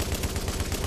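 Rapid automatic fire from a light machine gun in The Division, a fast even rhythm of sharp loud shots filling the whole moment.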